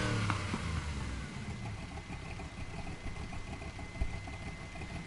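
An inline-six 3.9 liter engine in a Chevrolet Bel Air in Need for Speed Heat drones steadily with a rough, mid-pitched rumble, holding a constant rev through a short stretch without speech.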